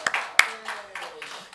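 A church new-member class ends with a short round of hand clapping: a couple of sharp claps followed by softer scattered ones, with some voices mixed in.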